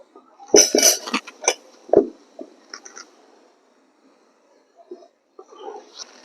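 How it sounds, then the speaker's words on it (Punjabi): A few close metallic clanks and clatters of a heavy pan set down, followed by quiet and a couple of softer knocks. "ਹੁਣ ਆਪਾਂ ਕੜਾਹੀ ਧਰਾਂਗੇ"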